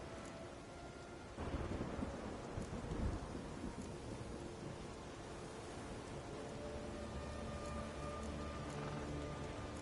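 Video game thunderstorm: steady heavy rain with a rolling thunder rumble near the start, continuous and fairly loud with no talking.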